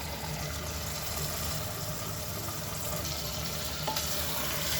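Chopped chicken dropped into a pan of sautéed masala for Kannur-style kunji pathal sizzles and fries in a steady, close hiss that holds evenly throughout with no talking.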